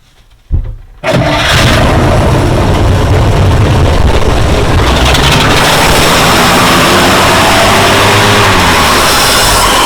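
A 1940s Dodge Army truck engine, long unused, cranks briefly, catches, then roars at a steady, loud full throttle for several seconds, a rough, continuous low rumble with no breaks.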